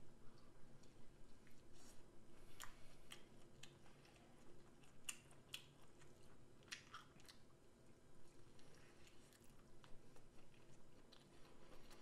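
Close, quiet chewing and biting on home-cooked chicken baeksuk, a Korean boiled chicken dish, with irregular soft crunches and mouth clicks spread through the clip and no talking.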